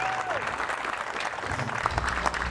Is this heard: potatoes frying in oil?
no